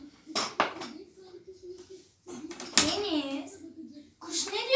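A few metallic clinks and clatters of pots and dishes, with a voice and other speech around them.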